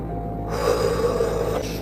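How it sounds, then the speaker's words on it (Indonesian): One deep breath drawn in through the nose, slow and steady for over a second, close and fairly loud with no talking during it. "Cukup tarik napas."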